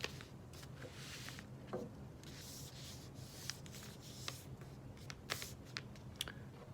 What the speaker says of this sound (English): We are going to fold it in half